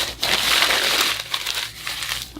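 A paper bag is crumpled by hand close up, with dense continuous crinkling through the whole stretch and a few sharper crackles near the end, no talking.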